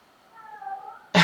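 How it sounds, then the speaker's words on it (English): A cat meows just outside an office, a faint, drawn-out wavering cry heard from a short distance, followed by an abrupt loud burst of noise at the end. "meowing just outside of my office. So if you hear that, that's what that is"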